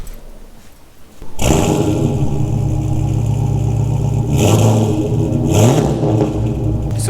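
A Subaru GC8 cranks and fires up after a second of quiet, then settles into a loud, close engine note with two rising revs partway through.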